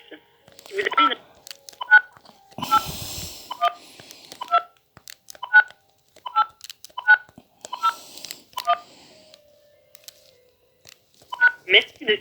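Telephone keypad DTMF tones punch in a Freebox identifier on a Free technical support line, a series of short, evenly spaced beeps interleaved with a recorded automated voice prompt.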